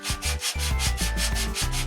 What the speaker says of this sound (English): I sand sometimes for hours.